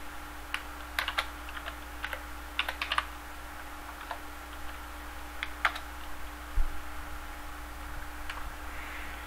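Sparse keystrokes on a computer keyboard while commands are typed, scattered light clicks in short clusters over a steady electrical hum, quiet and close, no talking.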